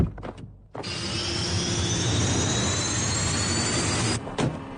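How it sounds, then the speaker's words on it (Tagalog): A cartoon aircraft engine spins up into a steady, loud jet-like whine with a rising high tone, holding for several seconds before cutting off abruptly, followed by a brief clatter. "Paandalin mo na ang makina, alis na tayo."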